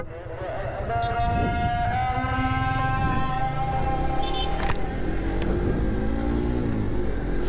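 Suzuki GSX-R150 motorcycle engine while riding, climbing in pitch as it revs, dipping at each upshift and rising again, loud and close throughout.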